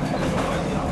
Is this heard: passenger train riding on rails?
yes